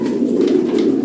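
European-bloodline racing pigeons coo close and clearly, a rolling low throaty warble sustained for about a second with no voices over it.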